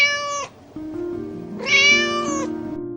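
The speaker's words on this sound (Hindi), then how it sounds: "बिल्ली कराह रही थी, मानो वह मदद के लिए पुकार रही हो।" A small white cartoon cat, caught in thorns, lets out two loud, drawn-out plaintive meows separated by a short pause, clear and close with no talking.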